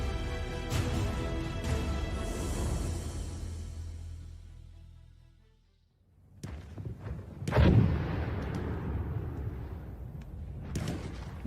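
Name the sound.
distant explosions, artillery fire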